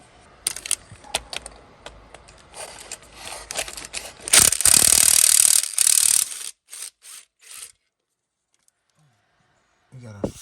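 A ratchet wrench clicks in bursts as bolts come off the oil pan of a GM 4.8L/5.3L V8 engine, followed by a longer, louder stretch of rapid ratcheting. Then come scattered metallic clinks and a quiet pause.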